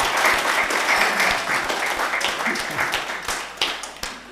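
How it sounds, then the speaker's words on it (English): A congregation at a Sunday morning church service claps for a birthday celebration, giving steady, dense applause that carries on throughout and thins slightly near the end, with a few louder claps standing out. "Let's give her a round of applause"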